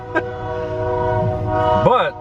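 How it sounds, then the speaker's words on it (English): A train rolls along a railway track, giving a steady rumble with a sustained tonal horn-like drone, while a person talks briefly at the start and end. "And here comes a train too. Can you hear that? I hear those wheels are rolling."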